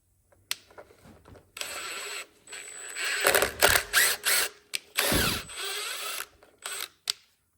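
Self-tapping screws driven into a John Deere GT225 garden tractor with a power driver, several whirring bursts of varying length with short pauses between them, close and fairly loud.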